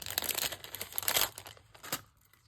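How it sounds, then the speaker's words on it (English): Scissors cut across the bottom of a plastic gift bag, with close, loud crinkling and crackling plastic in several bursts that fade out at the end. "I'm just going to cut the bottom again"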